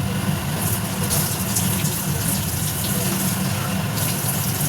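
Water pours steadily into a cooking pot for several seconds, a continuous close gushing splash like a running tap, with no break in the flow.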